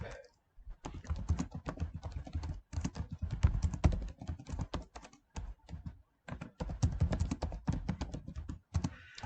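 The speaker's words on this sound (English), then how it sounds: "whenever you type something, for example, we're hitting 3, we're going to type" Typing on a computer keyboard while editing an online document, a fast run of close, crisp key taps in bursts separated by brief pauses.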